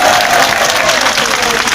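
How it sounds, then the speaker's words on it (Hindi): Applause from a crowd at an Aam Aadmi Party political rally in Mustafabad, a dense, continuous clatter of clapping held steady and loud throughout with no voices rising above it. "तो इनके लिए जोरदार तालियां एक बार पीछे तक बजनी चाहिए।"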